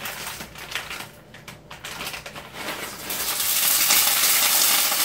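Frozen onions hit hot fat in a pot while New Orleans style red beans and rice are being cooked, giving a steady close sizzle that swells louder and fuller in the second half.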